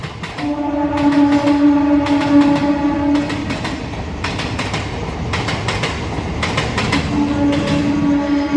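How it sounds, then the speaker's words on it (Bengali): A train rolls past nearby, its horn sounding in long loud blasts at the start and end while wheels clatter rhythmically on the rails throughout. "এই হচ্ছে আমার বাড়ি ট্রেন যাচ্ছে"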